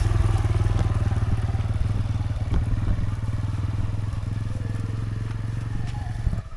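A motorcycle engine runs steadily close by under a learner rider, a low thrumming putter with occasional clatter as the bike moves along in second gear.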